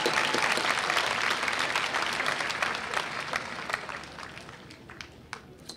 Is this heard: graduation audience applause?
yes